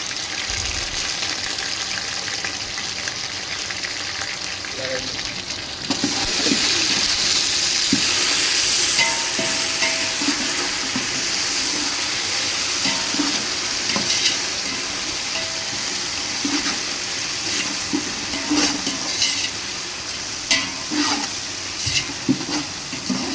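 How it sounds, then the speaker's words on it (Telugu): Ginger garlic paste fries in hot oil for mutton pulao, giving a loud, sustained sizzle that swells after being added, with scattered spatters and the scrape of stirring. "ఇప్పుడు అల్లం ఎల్లిగడ్డ పేస్ట్ వేసుకోవాలి"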